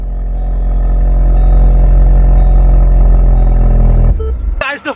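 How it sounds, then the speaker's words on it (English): Wrecked Ford Focus RS salvage-auction car, its engine running loud and close with a deep, steady rumble, then cutting off abruptly, followed by someone speaking in the brief quiet after. "We finally heard the engine run."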